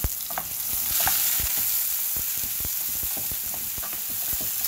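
Ackee and saltfish fry in a pan with a continuous bright sizzle, while a utensil taps and scrapes the pan in quick, irregular clicks; close and moderately loud, with no voices.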